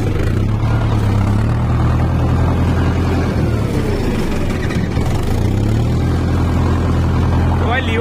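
An Arjun Novo 605 tractor drags a choked rotavator through hard soil, its engine droning loud and heavy with pitch sagging and recovering under load. Someone talks over the steady rumble.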